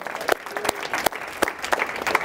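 An audience at a diversity and inclusion conference session claps and cheers, scattered applause with sharp individual claps rising and falling over a couple of seconds.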